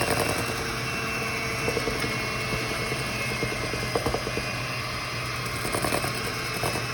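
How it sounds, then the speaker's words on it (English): An electric beater creams butter and sugar in a bowl, a steady, loud motor whir with faint rattling taps running throughout. "I'm gonna use my whisk or my beater, and I'm gonna put my butter and sugar in together."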